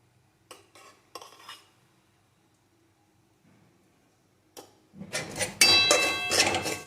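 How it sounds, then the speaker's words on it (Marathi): Semolina roasting in a pan with a spoonful of pure ghee for sheera: a few sparse spoon-on-pan clinks early on, then loud, continuous scraping and stirring clatter near the end. "आता हे आपल्याला असं भाजून घ्यायचं आहे।"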